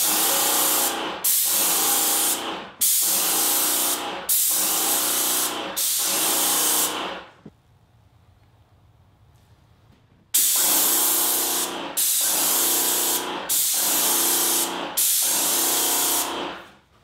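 A Wagner Control Pro 130 airless paint sprayer hisses in loud, steady bursts, five quick pulses with brief gaps, a pause of near silence, then four more, close and alone with no voices.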